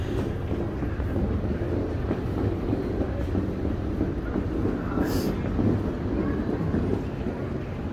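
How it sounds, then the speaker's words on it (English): Train at a main railway station, a steady rumbling roar of rolling rail cars with a brief high squeal midway, loud and continuous throughout. "That's the train station right over there."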